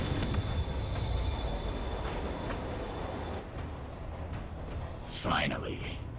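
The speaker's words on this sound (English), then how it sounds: "train's moving." A moving train in a Spider-Man video game rumbles and rattles along with steady high whining tones, then the noise thins out and a brief vocal burst comes near the end.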